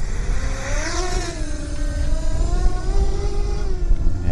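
A JJPRO P200 racing drone flying in high speed mode, its motors giving a loud, close buzzing whine whose pitch rises and wavers as it accelerates and manoeuvres throughout.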